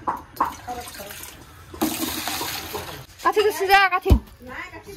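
Water pours and splashes into a container to soak blackened hewali flowers in a village home, a steady rushing pour mid-clip under a nearby voice talking.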